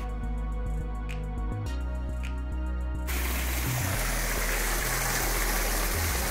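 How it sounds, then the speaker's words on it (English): A swimming pool waterfall at a beach house, running at higher output: a steady trickle with low hum turns abruptly into a dense, loud rushing gush of falling water partway through, with no talk. "Okay, the waterfall is running. That is a higher level of output in terms of like the water versus just the trickle."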